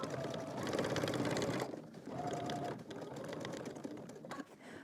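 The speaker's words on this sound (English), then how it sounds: "I'm going to stitch along the edge here and then continue this stitching to the end of the neckline" A sewing machine stitching along the edge of a blouse neckline, heard as a rapid, steady mechanical whir in bursts with brief pauses, fairly quiet and close, with no talking.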